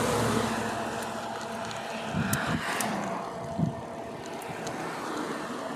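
Eahora Apus carbon fiber e-bike with a 350 watt motor climbing a hill, giving a steady low motor drone under broadband wind and road rush, with a couple of brief louder bumps midway.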